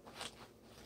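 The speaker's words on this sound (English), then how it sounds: "Listen to that crunch." Rinsed chopped romaine lettuce gives a few soft, crisp crunches, close up and quiet, a short crackly rustle.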